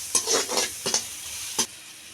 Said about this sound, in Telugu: మూడు ఉల్లిగడ్డలండి సన్నలుగా తరిగి పెట్టుకున్నాను అది వేసుకున్నానండి ఇప్పుడు వేసుకొని దోరగా వచ్చేటట్టు బాగా ఏంపుకోవాలండి